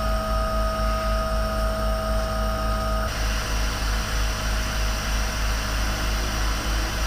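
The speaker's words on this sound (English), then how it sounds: "the air's leaking out of the join in the pipe" Compressed air escaping from a leaking pipe joint in a compressor line for truck unloading: a loud, steady hiss that shifts in tone partway through, over a low rhythmic mechanical throb, with no talking.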